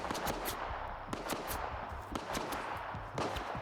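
Rifle fire in the STALKER 2 video game: a dense run of sharp shots at an irregular pace, heavy against a constant loud background of other combat noise, with no talk.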